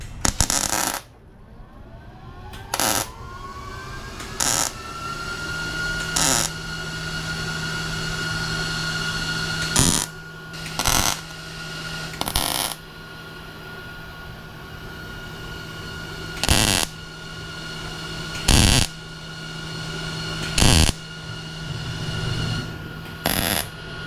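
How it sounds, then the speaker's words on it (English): Welding on thin, rusty, porous body metal of a 1979 Camaro Z28, with the machine turned down: short, sharp crackling bursts repeat every second or two over a steady electrical hum, close up and fairly loud. "I'm gonna turn the welding machine down just a touch because a lot of this metal is thin."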